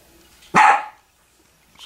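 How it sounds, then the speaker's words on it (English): A dog barks once outside a house, a single loud, sharp bark that fades quickly, surrounded by near silence. "that's a dog barking outside"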